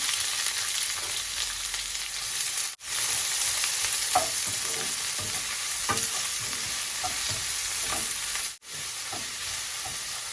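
Chopped onion with garlic frying in hot oil gives a steady, close sizzle with faint stirring scrapes and two brief dropouts, no voices.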